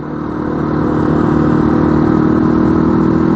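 A Triumph Triton 450 motorcycle with a worn chain runs steadily close by, its engine holding a constant, even drone throughout with no talk over it.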